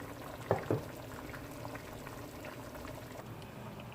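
A pot of liquid for curry goat sits on the stove and boils with a low, steady bubbling. Two brief louder splashes or knocks come near the start, and the simmer continues quietly on its own with no voices.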